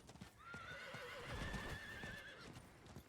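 A horse whinnies with a rising, wavering call over steady hoofbeats and background game noise in Diablo IV, fairly close and moderately loud.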